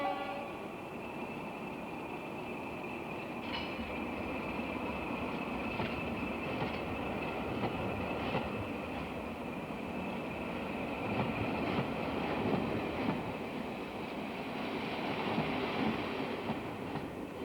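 The Orient Express train rumbles steadily along the rails for a long stretch, with faint rhythmic clacks and a constant high whine.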